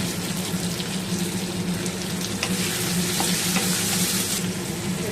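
Chopped tomato goes into mustard oil with reddish fried onion, cumin and bay leaf, giving a loud, continuous close sizzle and hiss of frying with no one talking.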